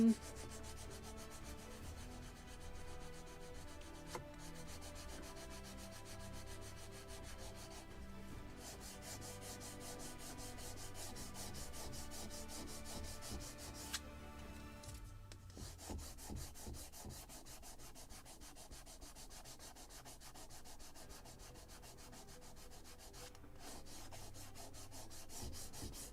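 Wooden parts for a Model Shipways kit of the 1776 gunboat Philadelphia are hand-sanded. The rubbing is steady and faint and close, with a few short pauses, and no one speaks.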